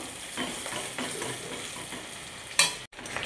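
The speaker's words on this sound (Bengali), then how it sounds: "পেঁয়াজটা এখানে আমি হালকা করে ভেজে নিয়েছি" Thickly sliced onions fry gently in a pan with a soft continuous sizzle, broken by a few scraping stirs of a spatula and one sharper clatter near the end.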